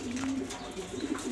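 Mili pigeons in a loft cooing softly, a low throaty warble repeated a few times against quiet background noise.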